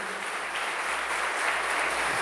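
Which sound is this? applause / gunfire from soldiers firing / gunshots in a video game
applause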